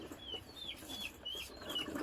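Chickens at a family home cluck softly and repeatedly in short, chirpy bursts. The sound is faint and somewhat distant against quiet background noise.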